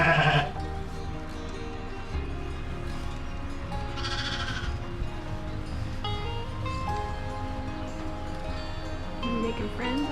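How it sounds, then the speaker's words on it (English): A ewe and newborn lambs on a sheep farm bleat, one loud nearby call at the start and fainter bleats later, over steady background rumble and outdoor noise. "I'm really happy with this little ewe."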